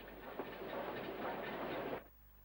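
British Railways 9F steam locomotive, number 92091, runs in at Brackley Central station in 1962, a brief rumbling rush of wheels and motion that swells and then cuts off abruptly after about two seconds.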